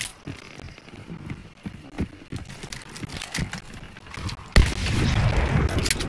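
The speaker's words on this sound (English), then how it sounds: "I was shooting a zombie" Gunfire in the video game Hunt: Showdown, several sharp shots spaced through a noisy stretch, followed by a louder sustained burst of rumbling action.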